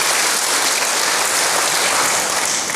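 Church congregation applauding together, a dense, steady wash of clapping held at even loudness throughout with no voices over it.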